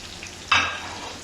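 Chopped ginger dropped into hot oil with green chillies for moong dal tadka, setting off a sudden loud sizzle that fades into a steady frying hiss.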